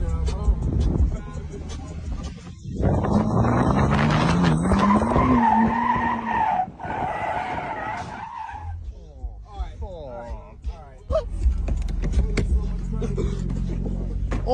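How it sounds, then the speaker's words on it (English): A BMW M3 CS drifts with loud, sustained tire squeal and a revving engine nearby, the screech rising and falling over several seconds before easing into a rough idle amid scattered crackles. "16-year-old destroys a BMW M3CS in a drift attempt"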